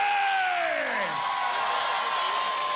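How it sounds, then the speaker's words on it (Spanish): A large outdoor crowd at a campaign rally on Avenida Bolívar in Caracas roars in a sustained ovation of whoops, yells and cheering, loud and continuous, with a long falling shout sweeping through the din. "Recibamos al compatriota con una ovación de amor y cariño"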